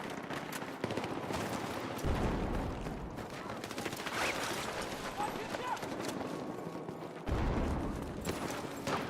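Gunfire from the player's gun in Battlefield 6, dense rapid automatic bursts that run almost without pause and come out loud and close, with heavier blasts and a voice talking over the shooting.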